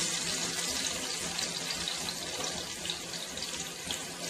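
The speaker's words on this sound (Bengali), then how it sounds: "সাদা তেল আর মাখনটা গরম হয়ে গেছে, এর মধ্যে এবার আমি ফুলকপিটা দিয়ে দিলাম।" Cauliflower fries in hot butter and white oil, giving a steady, close hissing sizzle with no break.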